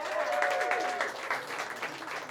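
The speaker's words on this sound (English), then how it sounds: "So give yourselves a round of applause for being here." Applause fills the room at a comedy festival afternoon show, a crowd clapping steadily and fairly close, with a faint tone running beneath the first second before the clapping thins slightly.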